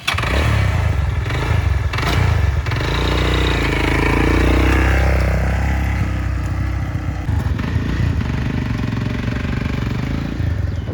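An electric bike, once dumped in a garage and since repaired, is started in neutral and keeps running with a steady, loud motor drone and some clattering, with no talk over it.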